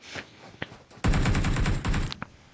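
Gunfire in the battle-royale game PUBG Mobile during an esports scrim: a loud, sustained burst of rapid automatic shots lasting about a second, with a few isolated shots just before and after.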